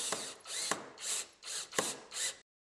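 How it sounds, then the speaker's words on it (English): A power driver runs a screw with a sealing washer through the central hole of a dry-fix hip starter tile, giving a series of short, close whirring bursts separated by brief pauses. "this is secured using a screw and sealing washer through a central hole"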